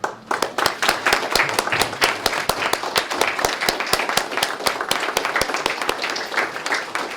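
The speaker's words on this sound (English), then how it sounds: "let's give them a round of applause" Graduates at a fall graduation celebration stand for a round of applause, with distinct, sharp hand claps close by over a steady bed of crowd clapping.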